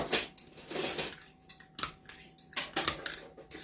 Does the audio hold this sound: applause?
no